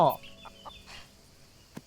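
Chickens on a farm in the EverDream Valley video game give a few short, soft clucks, starting with a louder burst and then scattered quieter calls, ending on one brief sharp note.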